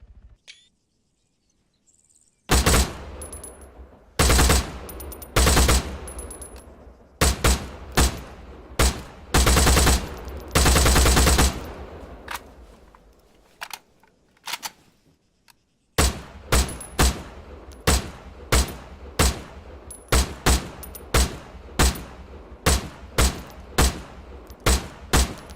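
A 7.62 rifle firing at targets in the video game Arma 3: loud, sharp individual gunshots in irregular bursts, then a steady run of evenly spaced shots after a short pause.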